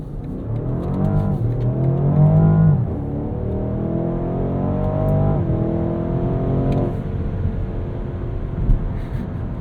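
A deep BMW Alpina XB7 SUV S68 V8 engine revs up repeatedly, pitch climbing through several gear changes, a strong throaty rumble heard close from inside the vehicle.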